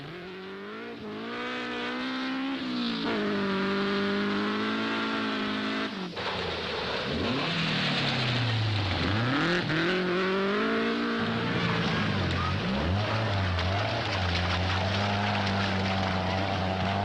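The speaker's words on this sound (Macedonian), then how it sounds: "Јужниот крос рели се состои во минување 2700 км преку австралиската пустина" Rally cars racing across the Australian desert in the Southern Cross Rally, engines droning loudly with rising and falling revs as they pass, continuous and close with no talk.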